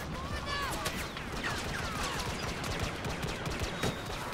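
Rapid blaster fire in Star Wars Battlefront, a dense volley of zipping, chirping laser shots with sharp impacts in a busy firefight, with voices talking underneath.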